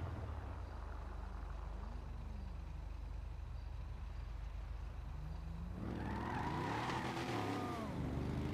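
A car engine drones steadily in an online role-play video game, then roars louder as tires squeal in a sustained skid near the end, with no voices.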